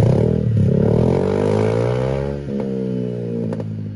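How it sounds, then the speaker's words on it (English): A motorcycle with a loud modified exhaust revs loudly and steadily, its rising harmonic drone filling the clip with a few sharp clicks near the end. "If your bikes go brr brr brr"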